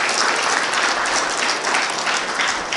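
A standing audience at a memorial ceremony and foundation launch for independence activist Kim Dong-sam applauds continuously to welcome guests, with dense, loud clapping throughout.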